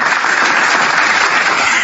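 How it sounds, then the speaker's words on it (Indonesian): A burst of dense, steady audience clapping at a religious talk, loud and even for the whole brief stretch. "tepuk tangan."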